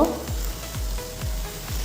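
Bori fried in oil for a banana flower curry, a soft steady sizzle broken by four evenly spaced scrapes of a spatula stirring the pan, close and fairly quiet.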